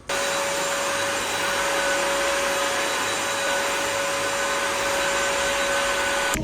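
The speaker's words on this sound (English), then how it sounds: "This is our special vacuum that also mops the floors. Cleans the carpet too." A combination vacuum cleaner that also mops floors runs continuously at close range with a steady, loud motor whine and airy rush, no voices over it.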